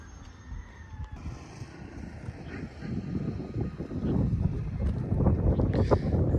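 Wind buffeting the microphone while riding a motorbike along a green hill road in Dailekh, a low rumbling roar that grows stronger and gustier over several seconds, with faint engine noise underneath.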